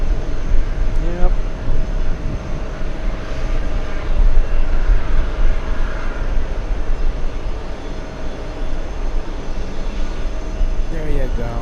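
Delta airliner arriving at JFK from the Dominican Republic: a continuous, fairly loud jet rumble that swells and eases slightly, with faint talk over it.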